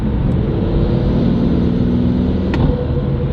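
Steady, loud engine and intake drone from inside a moving BMW M340i with a downpipe tune, in seventh gear, a low rumbling hum with a faint whistle riding over it.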